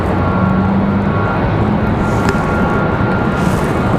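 A small executive jet moving at Raleigh-Durham International Airport, a loud, continuous engine roar with rushing broadband noise that holds steady throughout.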